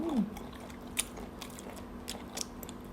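Someone bites into a large crispy grilled squid wing, giving a crunchy snap followed by soft, close chewing and faint crackles, quiet and intimate with little background noise.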